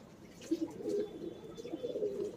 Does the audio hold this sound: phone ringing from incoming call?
no